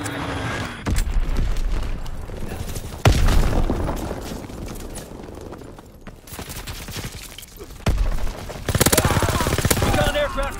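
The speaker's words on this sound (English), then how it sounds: "Dropping Azon bomb." An Azon bomb dropping and exploding in Call of Duty WW2, with dense gunfire and repeated heavy booming blasts across the whole stretch and loud battle noise throughout.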